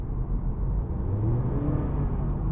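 A 2021 Honda Accord Hybrid accelerates hard, its engine rising into a smooth, building hum that gets louder and rumbles steadily from inside the cabin, with no talking.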